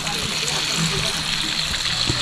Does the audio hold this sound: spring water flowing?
yes